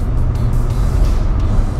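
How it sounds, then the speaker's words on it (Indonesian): A Honda BR-V's engine drones loudly in sport mode from inside the cabin, a steady low rumble with road noise and no talk over it. "tapi ya komprominya juga mobil ini jadi lebih berisik suara mesinnya"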